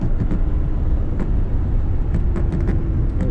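A Lamborghini Gallardo LP560-4 on a race track, heard as a loud, continuous engine and road roar close up, with a few brief higher squeaks as it brakes.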